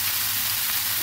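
Potato pieces tossed with salt and turmeric hiss and sizzle steadily in a frying pan, an even, close frying sound with no talk over it.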